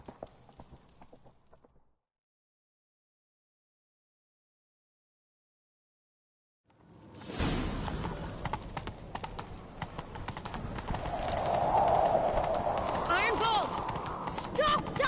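Horse hooves galloping in The Witcher 3, a steady clip-clop rhythm that kicks in loud and close after a brief stretch of silence, under continuous game ambience with a voice speaking.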